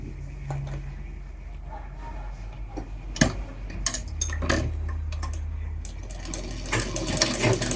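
A sewing machine stitching churidar fabric pieces together, with short bursts of rapid mechanical whirring between ticks and clicks of handling, close by and moderately loud, with brief speech nearby.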